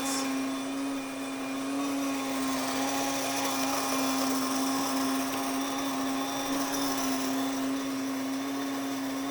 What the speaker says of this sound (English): I'm gonna let that finish grinding